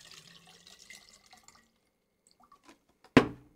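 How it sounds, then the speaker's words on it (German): Water poured into a shisha bowl lands in one sudden splash near the end, following soft faint handling noises and near silence. "füllt das Wasser einmal in die Bowl,"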